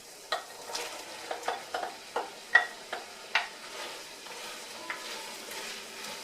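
Carrots sauté in a pan for a chicken pot pie, with a string of quick scraping stir strokes over a soft steady sizzle, fairly close, then the sizzle carries on alone for the last couple of seconds.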